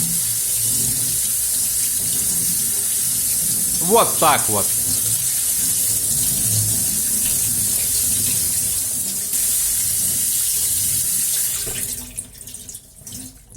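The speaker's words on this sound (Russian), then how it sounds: "Далее ее нужно промыть под проточной водой." Running tap water pours steadily through a colander rinsing sprouted wheat, a constant hiss and splash that fades near the end, with a brief spoken word partway through.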